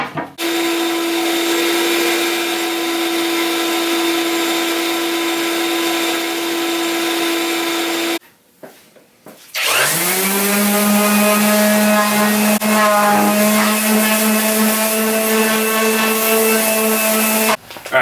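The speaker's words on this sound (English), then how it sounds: "I'm going to go ahead and begin sanding them to remove the little bits that are left," A power sander works on stripped wooden tiller and rudder pieces from a small boat, giving a loud, steady motor whine that cuts out briefly, then spins back up and runs on with a lower, strained tone.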